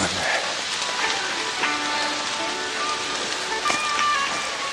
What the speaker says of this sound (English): now I can hear the rain hitting the maple leaves above my head